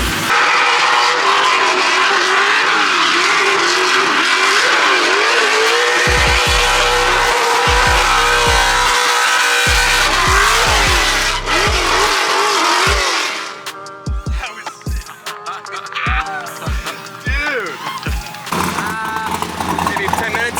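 A car drifts on a track at a themed car event, its engine roaring hard as tires squeal and skid in long wailing sweeps, with the sound close, loud and continuous, briefly easing before surging again.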